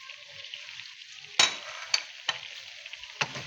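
Balochi chicken tikka masala with coarsely ground masala sprinkled over it is stirred in a pan with the flame off, a steady soft sizzle cut by four or five sharp spoon knocks.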